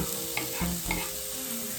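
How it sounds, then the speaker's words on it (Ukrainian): Chopped onion sizzles in vegetable oil in a hot frying pan, a steady close crackle with a few stirring scrapes and clinks of a utensil against the pan. "Поки цибулька буде обсмажуватися"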